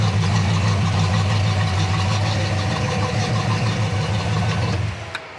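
A 1967 Chevrolet Chevy II Nova Pro Street V8 idles with a steady, deep, loud rumble close by for about five seconds before cutting off abruptly near the end.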